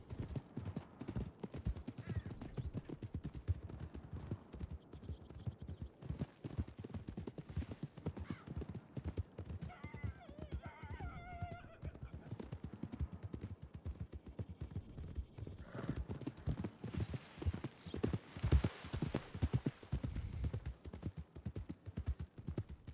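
Horse hooves clip-clop steadily in a roleplay video game, a continuous trotting rhythm under background hum, with a few whinnies breaking through near the middle and a brief louder burst later.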